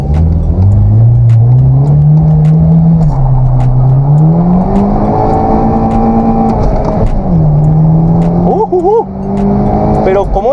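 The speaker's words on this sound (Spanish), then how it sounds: "Nuestro primer pique de la noche fue contra un Volkswagen Jetta Turbo" A Hyundai Genesis Coupe 2.0T turbo drag-races a 2022 Volkswagen Jetta Turbo at night. A loud, close engine drone climbs steadily in pitch, dips at gear changes and rises again, with voices talking over it.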